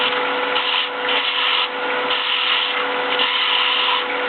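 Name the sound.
wood turning a finial with a skew tool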